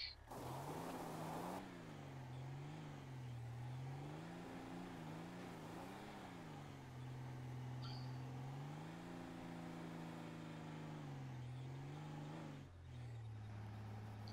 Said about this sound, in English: Either the engine's not strong enough to go, or the wheels just slip.